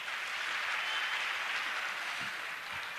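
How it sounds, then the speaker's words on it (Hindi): An audience at a Hindi discussion event in Tikamgarh claps in a steady, even wash of applause that holds at moderate level throughout without pause. "आप लोग बहुत जोरदार ढंग से तालियां बजाते रहिएगा"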